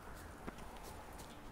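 Rapid hoofbeats of a horse at a quick trot in The Witcher 3: Wild Hunt, steady clip-clop hits over a constant background wash, faint and brief.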